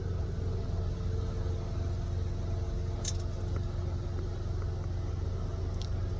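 Hydraulic car lift raising a low race car by remote, giving a steady, continuous low motor hum and rumble with a faint metallic clink partway through.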